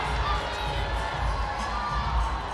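A roller derby championship crowd, Kansas City Roller Warriors against Rose City Rollers, roars and shouts continuously in a big venue, a loud, dense wash of cheering and voices with no break.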